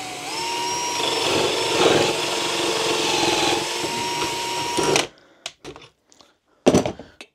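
A power drill fitted with a hinge-boring bit runs steadily through scrap wood held in an Enjoywood hinge drill guide jig, a loud close whine for about five seconds, then stops, followed by a few short knocks and clatters.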